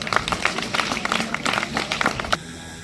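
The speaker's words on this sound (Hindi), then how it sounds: "जोरदार ताली बजाओ, ताली बजाओ जोरदार" A crowd at a school farewell ceremony claps and applauds steadily for a couple of seconds, a dense patter of hands that cuts off abruptly into quiet room tone.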